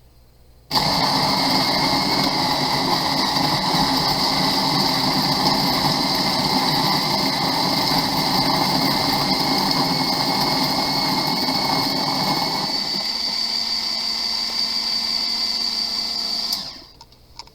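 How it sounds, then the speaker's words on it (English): A coffee grinder grinds Peruvian coffee beans with a loud, continuous high-pitched motor whir that runs steadily for about sixteen seconds before cutting off abruptly. "so, quick run through the grinder."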